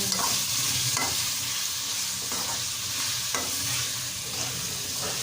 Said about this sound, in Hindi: अब हम इनको भी अच्छे तरीके से भूनेंगे।